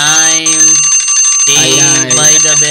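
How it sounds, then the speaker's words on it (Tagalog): A bell rings once to mark time during an online debate, its bright tone ringing on as a speaker talks over it. "Ding by the bell."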